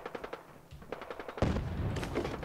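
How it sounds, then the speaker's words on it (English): Rapid bursts of distant explosions or gunfire rattle in quick succession, faint at first, then growing denser and louder toward the end, with no talk over them. "Some explosions in the distance."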